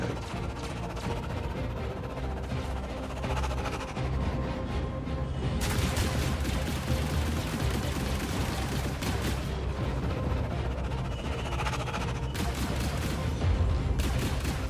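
Ship guns firing in the Star Citizen Alpha 3.1.2 space combat game, a dense, sustained barrage of rapid blasts and booms that grows louder and busier midway, with heavy volleys continuing to the end.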